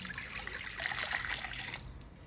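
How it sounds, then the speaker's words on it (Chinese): Bananas being rinsed in clean water, with a steady broadband trickle and splash of water that stays fairly even and close, easing off toward the end with no talking. "再冲洗冲洗，洗干净就可以了"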